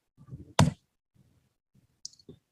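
A computer mouse clicks on a save changes button while an e-commerce website is being edited. One sharp, close click stands out, a fainter click follows about a second and a half later, and soft low rustling fills the gaps.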